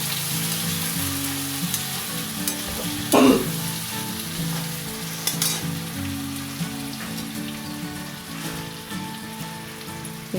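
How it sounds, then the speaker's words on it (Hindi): Purple yam sautés in a hot pan, a close, continuous hiss of frying with a sudden louder burst of sizzling near the start and a few spatula clicks, while low tonal hum sits under the crackle. "अब रतालू डालने के बाद आप इसको सौटे कर लीजिए।"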